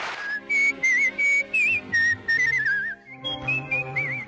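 A man whistles a melodic tune solo: a clear, bright, slightly wavering line of sustained notes in short phrases with a brief pause near the end, close and fairly loud.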